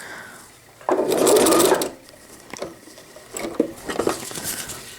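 A sewing machine stitches a cotton no-wicking diaper with PUL at the legs in short bursts, one loud run of stitches followed by quieter, intermittent clicks and fabric rustling as the fabric is turned stitch by stitch.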